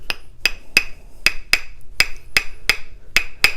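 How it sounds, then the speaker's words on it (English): Two wooden sticks clacked together in a steady beat, about ten sharp bright knocks, close and clear with no talking. "You have two different sticks that are resonant."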